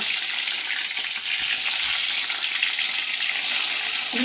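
Cumin seeds and bay leaf sizzle steadily in hot oil in a pan, a continuous loud hiss with no talking.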